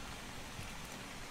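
Steady rain falls in ARK: Survival Evolved during a dark, misty night, a dense, even hiss of drops that stays constant throughout with no talking over it.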